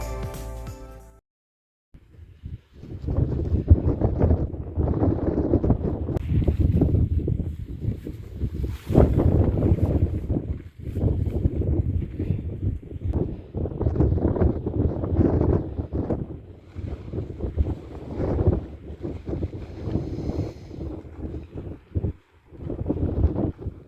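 Strong gusts at a campsite in Red Rock Canyon, Nevada, buffet the microphone in loud, roaring bursts, with brief lulls between them and a near-silent gap early on.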